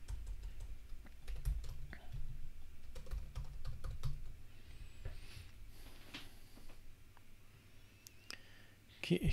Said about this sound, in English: Keyboard simulated.